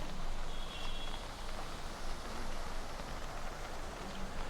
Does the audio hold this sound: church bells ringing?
no